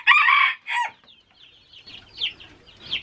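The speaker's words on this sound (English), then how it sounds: "Chicks are looking really good." Young backyard chicks on a homestead cluck and peep in a loud burst at the start, then continue in softer, scattered calls close by.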